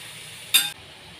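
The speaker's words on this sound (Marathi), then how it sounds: "सॉल्ट ॲड केल्याच्या नंतर 2 ते 3 मिनटं ही भाजी परतून घेतलेली आहे" Salted vegetables being sautéed in a pan for a Maharashtrian Bhogi thali, a brief, louder burst of sizzling and stirring near the middle over a quiet kitchen background.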